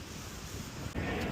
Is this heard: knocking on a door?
no